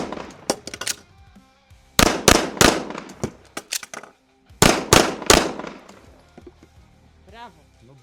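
Several sharp, loud pistol shots fired in quick clusters with pauses between them at an IDPA shooting competition, and faint voices in the background.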